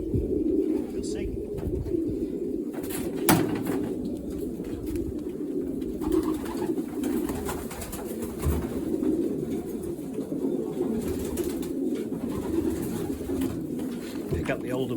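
Racing pigeons coo steadily in a loft on the day of a first old-bird race, a dense, continuous murmur of many birds close by, with people talking faintly underneath.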